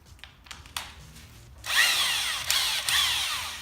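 A power drill or impact driver backs out the screw holding a wheel on, heard as a loud, steady whir for about two seconds with a brief pause, after some softer handling clicks and taps.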